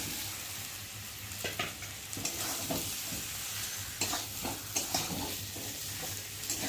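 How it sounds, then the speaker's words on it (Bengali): Fried potato pieces sauté with spice paste in a pan for an egg curry, giving a steady soft sizzle broken by repeated scraping and stirring strokes of a spoon against the pan. The sound is close and there is no talk. "আলুগুলোর সাথে মশলাটা ভালো করে কষিয়ে নেবো"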